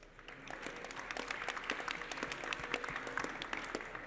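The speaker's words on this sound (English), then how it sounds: "So big hand of applause for Mitch." A conference audience at an aerospace composites event claps for a speaker, steady, moderately distant applause of many hands throughout.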